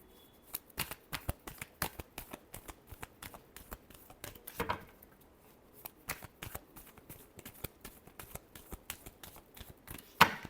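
Tarot cards shuffled by hand in a steady run of crisp riffling bursts, close and fairly quiet with no talk, ending in a sharper final snap.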